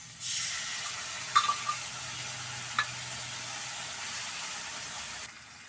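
Sauce with vinegar and soy sauce hisses and sizzles steadily in a hot pan, with a few small crackles and pops over the continuous frying noise before it cuts off.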